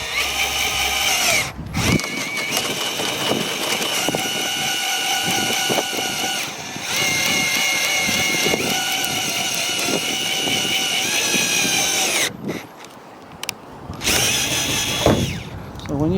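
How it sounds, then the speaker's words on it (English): A power drill runs almost continuously at high speed, drilling through polycarbonate sheet on a pergola build, whining loudly with brief pauses and short restarts near the end. "So all I need to do is drill."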